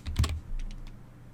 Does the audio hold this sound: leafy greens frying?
no